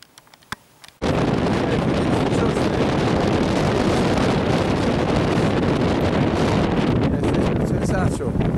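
Strong wind on an empty Baltic beach at Trzęsacz blasts across the microphone in a loud, continuous roar that starts abruptly after a quiet second and never lets up.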